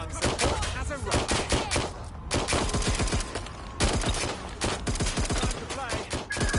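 Shotgun fire in Watch Dogs Legion, many loud, sharp blasts in quick, uneven succession, dense and close, with only a couple of brief gaps.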